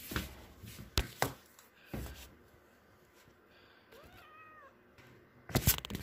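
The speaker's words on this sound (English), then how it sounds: "And they won't stop meowing at me." Indoor house cats meowing insistently, with a clear drawn-out meow in the middle, surrounded by soft clatter, knocks and bumps from nearby handling of food and containers.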